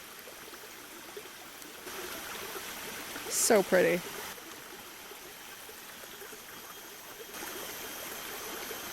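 Tea-colored, amber water of a sunlit stream in Bako National Park, Borneo, flowing with a steady soft wash throughout, briefly overlaid by a short spoken exclamation near the middle.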